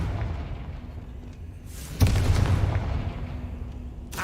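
A Confringo fire-blast spell in Hogwarts Legacy bursts with a sudden booming impact midway, followed by a rumbling, crackling tail that fades, with a sharper hit near the end.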